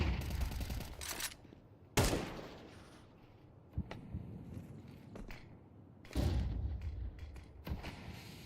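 Bursts of gunfire crackle through a Counter-Strike match, with a few loud rapid volleys separated by quieter stretches of game ambience and footsteps.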